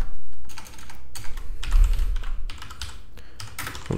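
Keys clatter on a computer keyboard as code is typed, in irregular bursts of clicks with brief pauses, close and fairly loud, with no talking.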